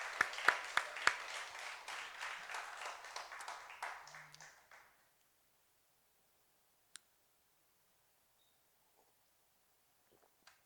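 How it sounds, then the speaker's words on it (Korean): A church congregation applauding at an evening prayer meeting: a burst of many hands clapping for about five seconds, then it stops abruptly, followed by near silence with a few faint clicks. "우리 모두 예수님께 다시 한번 영광의 박수로 영광 돌리겠습니다"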